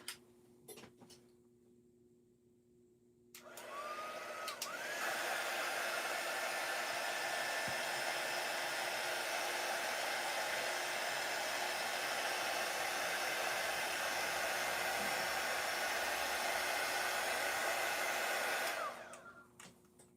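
A hair dryer blowing on artwork in an art studio, switching on after a few quiet seconds and running steadily and loudly at close range for about fifteen seconds before cutting off.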